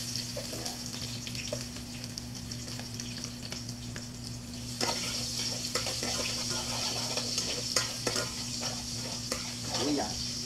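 Onions sizzle steadily in a pan for pansit with chicken gizzards, a continuous frying hiss with occasional utensil clinks and a low background hum throughout.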